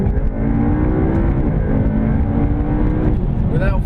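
McLaren 720S accelerating hard through the gears, a loud, close engine roar with steadily climbing pitch that breaks into a fresh rise after a shift near the end.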